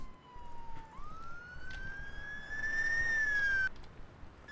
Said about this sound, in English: there is the ambulance coming